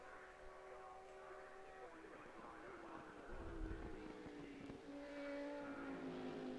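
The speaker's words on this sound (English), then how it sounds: "The noise coming out of the exhaust and, of course, from the rest of the car is staggeringly nice to the ears" Audi R8 GT3 racing car at Silverstone in RaceRoom, engine and exhaust droning steadily with rising and falling pitch through gear changes, a brief louder rumble midway, with a voice talking over it.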